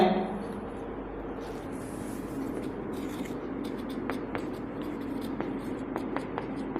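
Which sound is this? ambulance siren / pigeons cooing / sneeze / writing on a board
writing on a board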